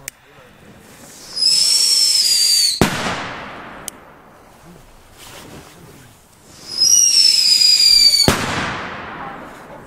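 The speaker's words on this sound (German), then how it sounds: "Ist auf jeden Fall ein richtig schöner Böller." Two Funke Scream 3S firecrackers whistle as they rise, each ending in a sharp, loud bang, with crackling and quiet rustling between the blasts.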